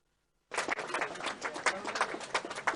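An audience at a Sadhna News awareness programme in Bhopal breaks into applause to welcome guests, the clapping starting abruptly after a short silence and continuing as a dense, steady patter.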